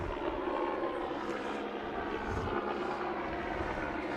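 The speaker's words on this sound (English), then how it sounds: "Not sure why the WGN helicopter is hovering around." A WGN news helicopter hovers overhead during a Lane Tech versus Lincoln Park girls' lacrosse game, its rotor and engine making a steady, continuous broadband rumble with no voices.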